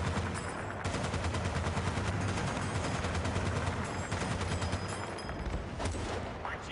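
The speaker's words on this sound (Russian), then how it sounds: "какой пулемет мощный" Rapid, sustained machine-gun fire in Battlefield Bad Company 2 multiplayer on PS3 rattles loudly and continuously, with scattered shots and game effects layered over it.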